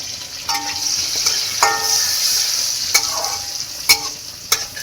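Dried red chilies, five-spice seeds and bay leaves fry in hot oil, giving a steady sizzle near the pan, broken by several sharp spatula knocks and scrapes.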